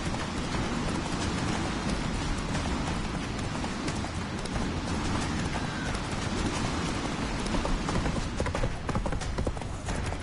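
Roach the horse gallops in The Witcher 3. Rapid, dense hoofbeats clatter on without a break, with a rain-like hiss behind them and a faint voice now and then.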